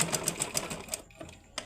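A sewing machine runs a straight seam on a blouse cup piece, its needle tapping in a quick, even rhythm for about a second before it stops. A faint tap follows, close and fairly quiet.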